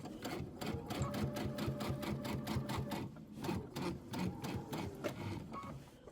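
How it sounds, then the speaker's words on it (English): A sewing machine stitches down quilt binding on a star-spangled quilt with layered, scalloped borders, running in a steady rapid rhythm of distinct needle strokes, close and fairly even throughout. "We are going to sew this down too."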